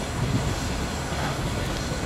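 The Grand Service Express passenger train bound for Sochi rumbles along, a steady low roar of wheels and carriage noise heard from inside, continuous and fairly loud with no clear voices.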